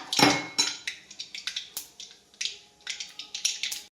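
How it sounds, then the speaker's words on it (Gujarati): Mustard seeds crackle and pop in hot oil during tempering for a spinach and split moong dal dish, sharp irregular spits and snaps in quick clusters over a steady sizzle, close and alone with no talk. "રઈ ચટકવા માંડી છે"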